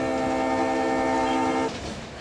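A freight train horn blares from a locomotive simulator exhibit, a loud sustained multi-tone chord that cuts off abruptly near the end, leaving a low rumble behind.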